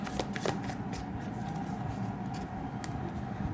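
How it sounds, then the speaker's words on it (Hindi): Tarot cards riffle and slide against each other in a continuous brisk shuffle, close and fairly quiet, with soft flicking bursts and no speech. "फिर कार्ड्स को हम शफल करेंगे"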